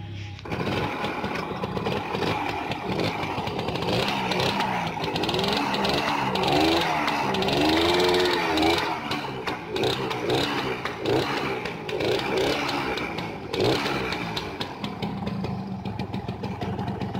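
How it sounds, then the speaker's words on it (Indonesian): A Yamaha 2G/L2 two-stroke motorcycle engine runs steadily with a buzzing, raspy tone, then rises and falls as the throttle is revved, loud and close throughout. "udah saya hidupkan dan normal, motor bisa digas full"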